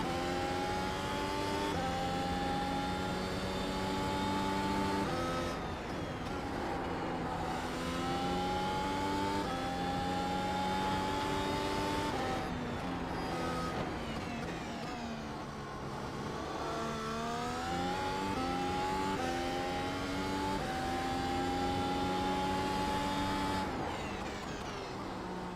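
Race car engine on a flying lap at Imola in the iRacing sim, a loud continuous whine that climbs through the gears, drops on each shift and braking zone, then revs up again, with no talk.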